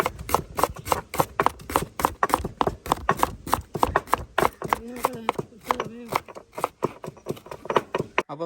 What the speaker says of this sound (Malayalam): അപ്പൊ നമ്മുടെ അച്ഛൻ്റെ ഇവിടെ സവാളയും ബാക്കിയുള്ള കാര്യങ്ങളൊക്കെ അരിഞ്ഞുകൊണ്ടിരിക്കുകയാണ്